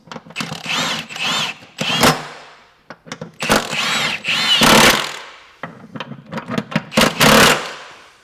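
A power tool tightens bolts while fitting an HRG Offroad 1.5 inch lift kit to a Kia Telluride, sounding as several close, loud whirring bursts of a second or two each, separated by brief pauses.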